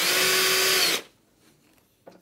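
A power drill bores into a Cooke & Lewis 500 three-drawer unit panel, one loud steady whir lasting about a second before cutting off abruptly, followed by quiet and a small knock.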